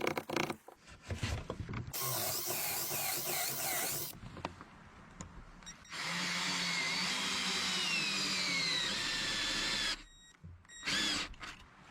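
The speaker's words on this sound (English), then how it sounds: "The sound of the drill echoes." A power drill whirs in several bursts of a few seconds each, loud and close, with short pauses and clicks between runs, while door hinges are attached to a cabin door frame in the forest.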